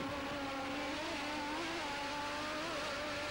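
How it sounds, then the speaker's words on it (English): A racing powerboat powered by Lamborghini engines at the 1992 Ostend offshore race makes a steady, droning engine whine with wavering tones, heard from a distance without talk. "ramming air down into the Lamborghini engines that have given Domenico Achille such superb performance in 1992"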